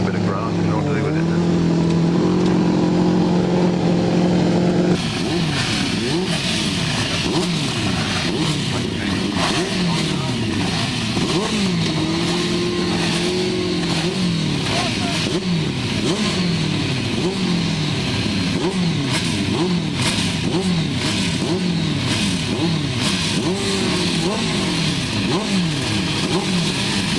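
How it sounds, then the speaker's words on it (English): Grass track racing sidecars at a July meeting in Frittenden rev hard and roar flat out up the straight, loud and close, their engines rising and falling in repeated sweeps while a commentator talks over the din. "Sidecars revving up, full bore up the straight"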